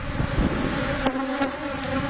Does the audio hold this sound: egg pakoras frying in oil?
no